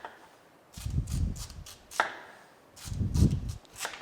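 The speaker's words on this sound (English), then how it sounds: "Using a good chef knife, and start making slices" A chef knife slices through peeled squash on a cutting board, two bursts of firm crunching cuts with sharp clicks of the blade hitting the board, close and clear with no talking.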